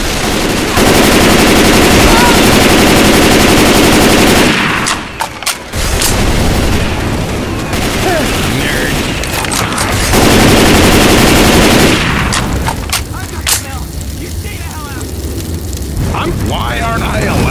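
Heavy gunfire from the video game Left 4 Dead 2, sustained loud automatic bursts and booms nearly filling the whole stretch, with brief lulls, while players talk over the shooting.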